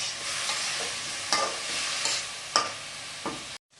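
Water lily stems fried with dried chillies in a pan, stirred in a steady sizzle with a few sharp utensil scrapes against the pan, close up and with no talk, cutting off abruptly at the end.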